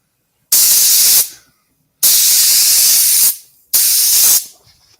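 Nitrocellulose lacquer is sprayed onto a wooden platter in three loud, close hissing bursts, each lasting roughly a second, separated by short silences.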